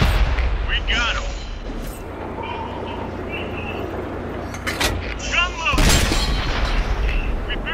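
Heavy tank cannon shots boom out in World of Tanks during a T34-88 Tier 6 German premium medium tank battle, with several loud blasts and rumbling engine noise under steady talk.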